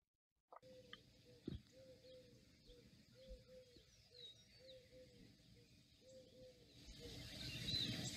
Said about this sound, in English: I don't know if you could hear that, but that was doves.